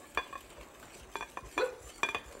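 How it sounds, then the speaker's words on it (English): Soy milk being whisked into chocolate cupcake batter in a bowl: a handful of quiet, uneven scraping and clinking strokes, about four distinct bursts, close by and otherwise calm. "Here, I'm going to start adding this, and you start whisking."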